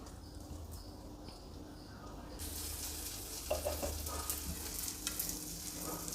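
Dosa frying in oil on a hot griddle for a Mysore-style or buttermilk dosa, giving a steady sizzle that grows louder partway through, with a few scraping and clinking touches close by.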